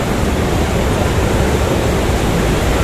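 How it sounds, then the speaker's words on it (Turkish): Water rushing at Düden Waterfall in Antalya, a loud, steady, full roar with no pauses, filling the whole clip with no voices. "Gürül gürül şu an. Böyle akıyor şelaleye kadar."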